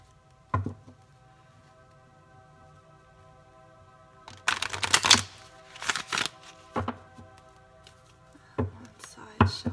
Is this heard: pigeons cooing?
no